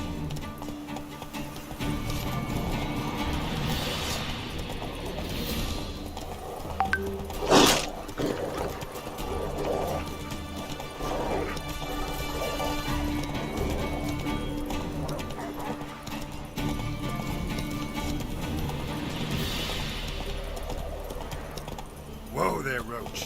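Geralt's horse Roach in The Witcher 3, steady clip-clop of hooves with creaking tack under continuous talking, plus a brief louder impact partway through.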